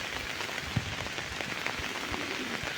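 Steady rain patters on a surface, a dense even hiss of drops with occasional louder splats close by, no voices.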